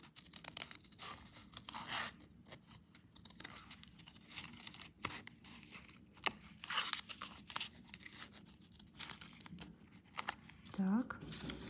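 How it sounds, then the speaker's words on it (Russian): Scissors cutting out paper flowers for crafting, close irregular crisp snips and crinkling paper rustles in quiet bursts, with a brief voice sound near the end. "Сейчас я их понавырезаю."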